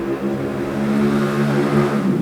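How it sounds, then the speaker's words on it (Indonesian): A nearby motorcycle engine running with a low, throbbing idle that rises slightly as it revs. "Suara motor bentar."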